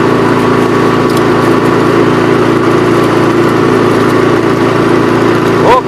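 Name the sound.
Toro power broom engine running while clearing snow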